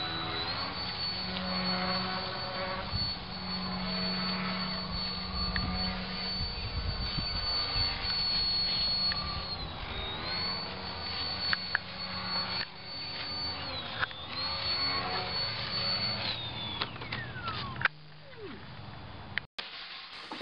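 Whining electric motors and propellers of a small remote-controlled VTOL plane flying in gusty wind, steady and close, with pitch shifting as it maneuvers, then cutting out near the end.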